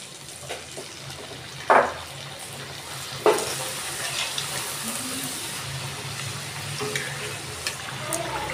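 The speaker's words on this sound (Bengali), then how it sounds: "দেখুন, লাল লাল করে আমি এইভাবে ভেজে নিচ্ছি।" Mung dal puli pitha, dumplings with a lentil filling, fry in hot oil with a steady crackling sizzle, broken by a couple of sharp spatters and stirring clinks, close and continuous.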